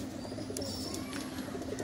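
Pigeons coo softly close by in a short, low, murmuring stretch over faint background hum.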